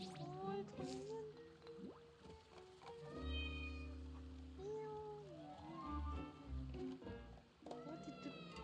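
A cartoonish cat meows several times in the video game Heartopia, short rising and falling cries over soft, steady game music, faint overall.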